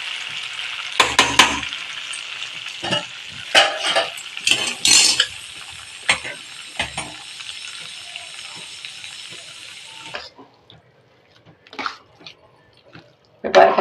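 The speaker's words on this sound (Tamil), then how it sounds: "இப்போ பொங்கல் எல்லாம் மிக்ஸ் பண்ணியாச்சு" Pongal being stirred and mixed in a pot, with wet scraping, clinking and soft sizzling strokes in an uneven rhythm, loud and close at first, then quieter scattered taps after a pause.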